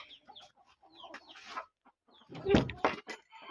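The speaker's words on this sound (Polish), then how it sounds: "O, kogucik wyszedł." Rooster and hens at a small poultry-breeding farm, clucking in short bursts near and at a distance, with a louder cluster of squawks partway through; no speech.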